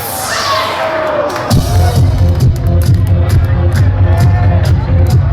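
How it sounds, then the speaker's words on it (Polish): A party crowd at a 2008 wet T-shirt contest breaks into clapping and cheering after a brief lead-in, a loud, busy burst of hands and voices that carries on to the end. "Trzy, cztery gorące brawa!"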